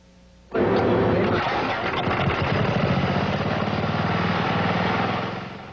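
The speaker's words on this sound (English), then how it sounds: "This engine is powered mostly by Mountain Dew, along with a bit of gasoline." A lawnmower engine running on a mix of Mountain Dew and gasoline roars into life and keeps up a loud, steady, rough drone close by, then eases slightly at the end.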